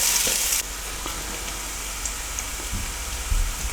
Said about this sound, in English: all I'm going to do now is just for 2 or 3 minutes just sweat these onions down until they become translucent and soft